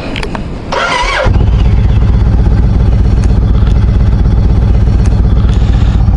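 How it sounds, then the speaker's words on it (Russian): A Yamaha XV1900 Star Raider motorcycle engine rumbles steadily and loudly up close, with a brief higher whine as it catches before settling into a continuous throbbing run. "Хоть услышите, как работает этот пепелац."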